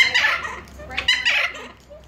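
Oliver, a pet bird, gives a few short, loud, close calls in quick succession, with people talking quietly nearby.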